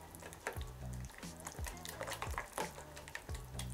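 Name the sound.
stirring hot custard cream with butter and vanilla sugar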